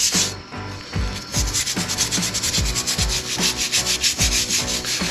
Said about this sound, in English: So let me keep scrubbing.